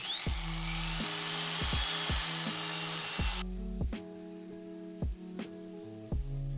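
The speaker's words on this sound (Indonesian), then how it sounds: "Dan kemudian saya bor langsung di tanda tersebut." A high-pitched drill whines for a few seconds while boring a hole to mount a V380 Pro wifi CCTV camera, then stops, followed by a series of sharp knocks and taps at irregular intervals.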